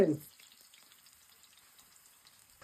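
Sliced potatoes go into hot oil, a faint, steady fizzing sizzle close by after a brief louder thump at the start, with no talk over it.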